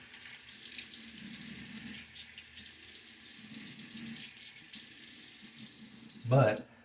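Tap water runs steadily from a faucet into a sink while a man wets his face before shaving, a continuous close hiss ending in a brief louder splash.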